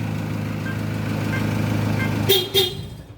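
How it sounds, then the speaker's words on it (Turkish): Two short, quick horn chirps from a 2007 Toyota Land Cruiser sound close together near the end as it locks, following a low steady hum. "Yine korna ile uyarı verdi."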